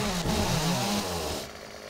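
Chainsaw in the video game 7 Days to Die, a loud, steady buzzing engine drone that runs continuously and then drops somewhat in level near the end, with no voices over it.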